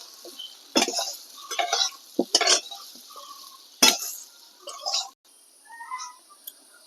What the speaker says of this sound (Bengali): এবারে এই সবগুলো দিয়ে আমি এটাকে আরো এক মিনিট ভাজবো